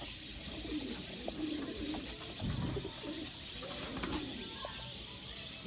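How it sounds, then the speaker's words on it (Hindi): Pigeons coo softly among a crowd of caged birds at a breeder's show, low burbling calls repeating under a constant bright chatter of other birds, with a faint voice nearby. "ये कबूतर है"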